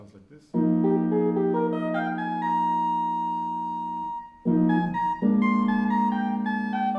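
Sustained chords ring out from a 31-tone split-keyed Claviton tuned in spectral intonation, with bright layered tones that swell, shift to new voicings and are struck again after a short pause.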